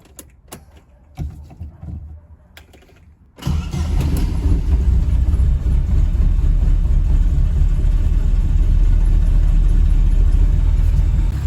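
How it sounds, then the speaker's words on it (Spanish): After a quiet start, a Chevrolet Corsa Classic engine turns over and settles into a slightly unstable idle. It gives a close, steady, low rumble that runs loud to the end. "es un poquito inestable el sonido en relenti del auto"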